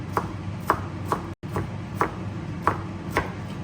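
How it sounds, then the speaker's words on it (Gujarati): Knife chopping through green bell pepper on a board, crisp evenly spaced cuts repeating about every half second with one brief pause, close and alone. "ગ્રીન પેપરને ક્લીન કરવા માટે વચ્ચેથી કટ કરવાનું"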